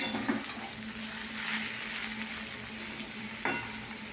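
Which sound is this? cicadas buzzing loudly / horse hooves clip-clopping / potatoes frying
potatoes frying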